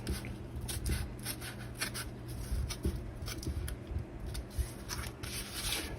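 Scissors snip a notch out of a piece of vinyl PVC corner siding, giving quiet, close, irregular cutting and rubbing clicks with no talking.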